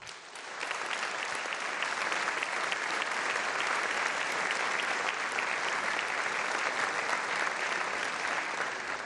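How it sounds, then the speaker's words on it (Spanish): Sustained applause from a large assembly of deputies in a national legislative chamber during an annual address, rising quickly and holding steady and dense throughout, with no voices standing out. "Pido un aplauso para ellos."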